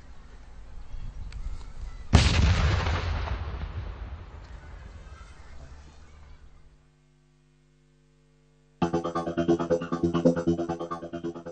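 A heavy blast from land mines being destroyed in Angola erupts suddenly over a steady hum and rumbles away for several seconds. After a short silence a dense, noisy roar follows.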